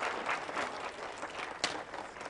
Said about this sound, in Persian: بله، تشویقش بکنید علیرضا